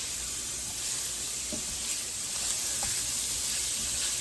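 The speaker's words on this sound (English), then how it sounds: "a handful of cabbage. And we're going to stir this around" Cabbage frying in a pan while being stirred: a steady loud sizzle and hiss throughout, with a few faint scraping clicks of stirring.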